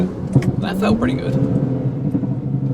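A BMW 335i with the N54 engine on an MHD tune runs steadily with a low rumbling drone, heard from inside the car while people talk over it.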